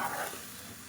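Spices and chopped tomato frying in a pan, a brief soft sizzle with a faint stirring scrape, quiet and close.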